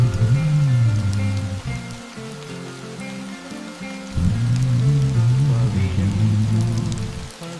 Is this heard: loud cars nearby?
no